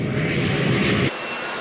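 General Electric turbofan jet engines of a B-1 bomber, a loud, dense roar that holds steady and then abruptly drops to a thinner, quieter rush.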